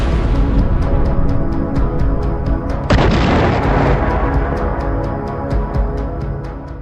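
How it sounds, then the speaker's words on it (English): Missile strikes at a Russian field ammunition depot, heavy booming explosions with a continuous low rumble, a sharp new blast midway and rapid secondary ammunition detonations crackling rhythmically throughout, loud and close. "The explosions that followed were so powerful that they triggered secondary blasts from hidden"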